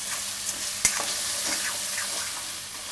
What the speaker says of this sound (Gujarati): હવે એમાં ડુંગળી નાખી દઈશું આપણે. ડુંગળીને થોડીક વાર પાકવા દેવું